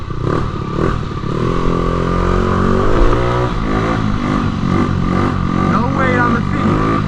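A 50cc motorcycle engine revving up close and loud, its buzzing pitch climbing and falling in surges with a rattly mechanical clatter over the top.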